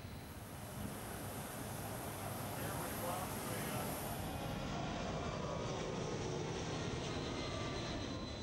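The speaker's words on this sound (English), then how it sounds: "Today we were on board the C-17 as the US put the giant jet through its paces near the Yelahanka Air Base" A Boeing C-17 military transport jet flies near an air base, heard as a steady, loud broadband engine roar with wind-like rush that persists throughout, sounding close and continuous.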